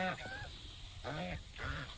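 Ducks calling near a heap of freshly poured paddy grain, giving several loud, honking quacks in short bursts over about two seconds, close by and without speech.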